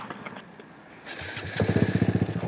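Honda Grom motorcycle engine at a skate park, starting quietly and then revving up into a loud, close, pulsing putter as the bike gets moving.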